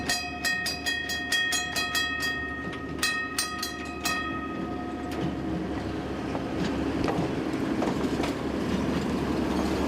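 The Platte Valley Trolley runs along an old Denver trolley line, with rhythmic wheel clicks over rail joints and a steady rolling rumble that settles into a continuous drone.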